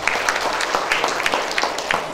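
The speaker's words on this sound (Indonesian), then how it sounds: "Tepuk tangan." Congregation clapping during a church service, dense and fairly loud, with a few sharper individual claps standing out in an uneven rhythm across the whole stretch.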